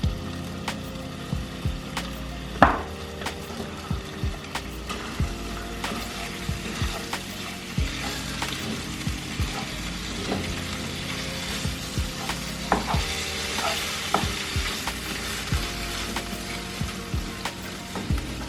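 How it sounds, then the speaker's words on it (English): Ground meat browns in a pan with garlic salt and pepper, cooked for stuffed bell peppers, making a steady close sizzle broken by frequent small clicks and scrapes of a spatula, with no talk over it. "So you're going to continue cooking the meat until it turns brown."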